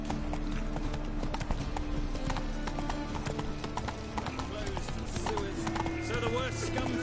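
Hooves of Roach, the horse in The Witcher 3, clip-clop in a steady walking rhythm throughout, close and clear, over a continuous game music and ambience bed, with a brief whinny.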